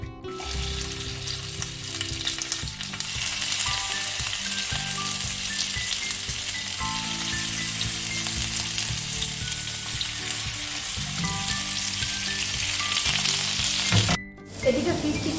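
Fish tikka pieces threaded two to a skewer fry in a hot pan, giving a loud, steady, close sizzle that runs almost without a break, dipping for a moment near the end.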